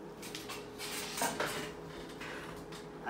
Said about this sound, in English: And I'm gonna throw all this in a mixing bowl.